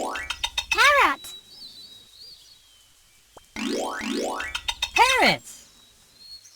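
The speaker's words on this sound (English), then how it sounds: "Parrot." A parrot gives loud, rising-and-falling screeching calls in two bursts, each with quick chirps around it and a short silence in between.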